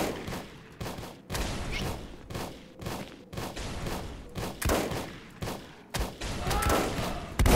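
In Volcanoids, a Gatling gun fires at turrets in rapid, loud bursts of roughly a second each, separated by brief pauses, with dense close gunfire filling the whole stretch.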